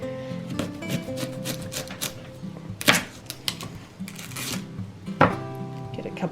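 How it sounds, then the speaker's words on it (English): A knife cutting onions on a board while preparing carne asada and Puerto Rican rice, with irregular close taps and a few sharper knocks, set against background music. "So what I'm gonna do is cut up some onions here"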